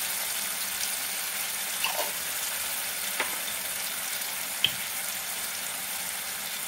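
Kashmiri chilies drop into tamarind pulp frying in a pan for a coriander-leaf pickle, giving a steady soft sizzle with a few faint clicks and taps on top, no talking.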